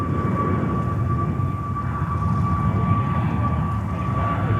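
An airliner's engines at JFK Airport give a steady, broad roar with a thin high whine across the whole stretch, holding level without a clear build or fade.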